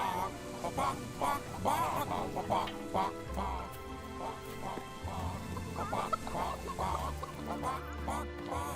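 Chickens cluck and squawk in the fantasy video game Fable 3, with a string of short, nasal calls repeating over quiet game ambience and faint background noise.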